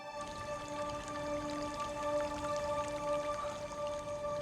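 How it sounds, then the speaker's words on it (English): Water trickling from a clear spring in the wild, a steady close babble with scattered drips and a faint tonal hum running underneath. "Suddenly, I could hear trickling water."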